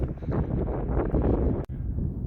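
Wind buffets a microphone on the Lochgreen golf course at Troon, a loud rough rumble that gusts steadily, briefly cuts out, then returns, with no voices.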